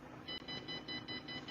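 A quiet electronic device gives a quick series of short, high beeps in a steady rhythm over faint background noise.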